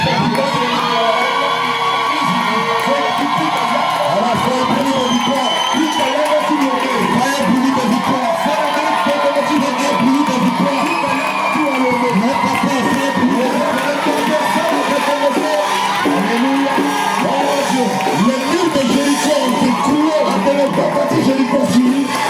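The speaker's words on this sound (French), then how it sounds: "Les gens poussaient des cris de victoire." A church congregation on a Friday night service shouts and cheers in loud, sustained cries of victory, dense crowd voices whooping and yelling continuously without pause.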